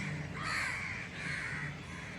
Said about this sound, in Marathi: ह्या सगळे कावळे जमले